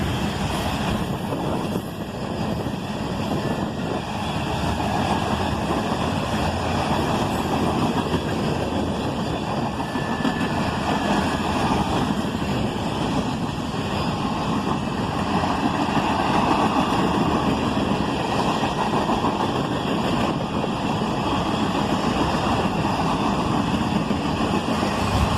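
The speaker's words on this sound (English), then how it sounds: "And now we're into a cut of coil shield cars." CSX freight train rolling past with a cut of coil shield cars, a steady loud rumble and rattle of wheels and cars lasting throughout, with no talk.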